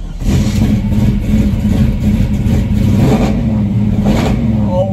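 A 1970 split-bumper Camaro with an LS1 V8 barks into life and revs hard, loud and close, with rising and falling throttle blips over a rough, lumpy idle.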